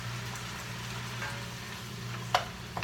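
Garlic sizzling in a pan of spaghetti sauce as it is stirred in, a steady low frying hiss with a brief sharp clatter near the end.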